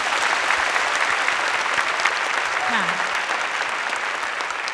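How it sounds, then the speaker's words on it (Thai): A television studio audience applauds steadily in approval of a special award, dense clapping filling the space throughout with no break. "ถ้าเห็นด้วยปรบมือหน่อยดีไหมครับ"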